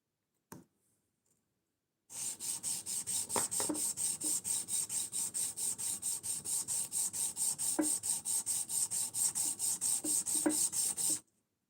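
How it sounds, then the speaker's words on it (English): A hand rubbing a finish onto a knife's front scale, a close, rhythmic series of regular back-and-forth rasping strokes, about two per second, after a brief silence, with occasional faint knocks and no talking. "We're doing a hand rubbed finish on a front scale."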